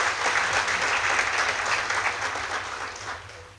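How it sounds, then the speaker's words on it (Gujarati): An audience at a community gathering applauds to welcome guests, giving a full burst of many hands clapping that gradually fades toward the end, with no speech over it. "એમને પણ તાળીઓથી વધાવવા છે."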